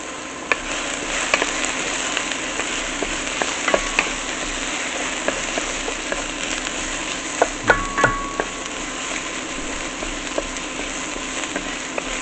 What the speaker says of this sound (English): Nothing better than the smell of sauteing ginger and garlic.